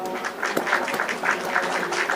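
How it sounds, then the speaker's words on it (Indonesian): Scattered applause from a small group of students in a classroom, light uneven clapping over about two seconds, fairly close and not very dense. "Tepuk tangan untuk kelompok 1."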